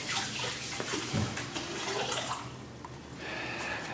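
Tap water runs steadily into a sink while a celery stick is rinsed under it, a close, continuous splashing rush that changes slightly as the stalk moves through the stream.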